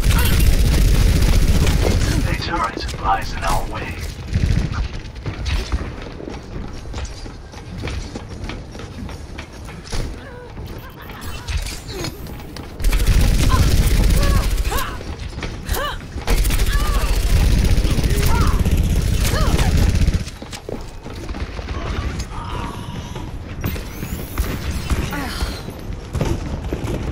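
Turret gunfire from the Overwatch video game crackles in bursts of rapid shots and booms, sustained and fairly loud, with a player talking over the action at times.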